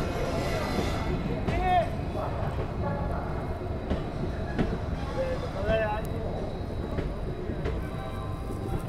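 The Ranikhet Express pulls out of Ghaziabad Junction with a low rumble of rolling wagons and faint, repeated wheel squeals, while voices murmur in the background.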